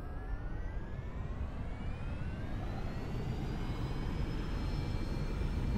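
An aircraft engine runs at full power during the takeoff roll in the X-Plane 11 flight simulator, a steady rising roar with whining tones that climb in pitch, moderately loud and with no speech.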